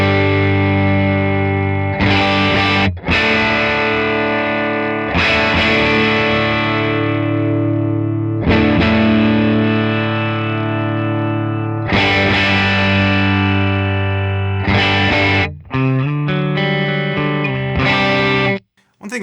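Distorted electric guitar played through a REVV D40 amp just starting to break up, sustained chords and riffs ringing out loud and close while the bass, middle and treble controls are adjusted, with short pauses between phrases.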